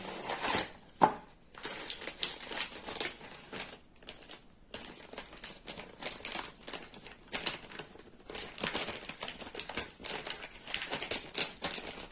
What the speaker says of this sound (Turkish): Sonra nişastamızı açıyoruz.